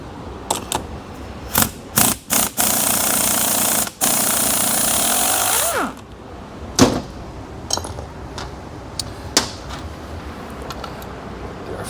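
A power tool works loose the center support bolt on a 4L80E transmission: short rattling bursts, then one long hammering run of several seconds, followed by scattered brief zips and clicks.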